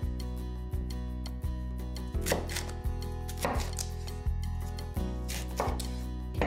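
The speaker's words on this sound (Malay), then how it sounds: "Potong kecil capsicum." Knife chopping capsicum into small pieces on a board, crisp evenly spaced cuts in a steady rhythm, close and clear over a soft background.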